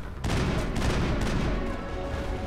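Sustained loud gunfire in the video game Mass Effect, a dense rattling barrage of overlapping shots and booms that continues without a break.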